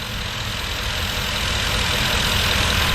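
A 2011 Ford Expedition King Ranch with a 5.4-liter Triton V8 idles close by, a steady, loud low rumble that holds evenly with no speech or revving.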